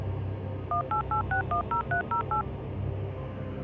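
A cell phone dials a number, giving a quick run of about a dozen two-tone keypad beeps at a steady pace over faint background hum, with no talking.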